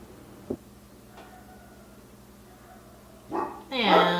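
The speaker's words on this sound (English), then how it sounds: "And there's the neighbor dogs just chiming in." Several neighbouring dogs bark from a distance, a faint yip early on and a louder burst of barking toward the end, heard alone over quiet room tone in a kitchen where chocolate bites are being made.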